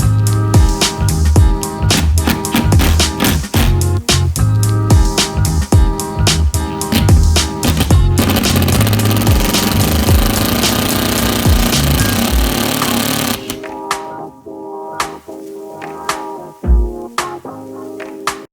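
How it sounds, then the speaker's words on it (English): A loud, close power tool hammers and grinds in rapid bursts while driving a drywall anchor into a ceiling, then runs continuously before stopping, followed by a few sharp knocks. "I'm just going to drive in a drywall anchor and hopefully it should hold it"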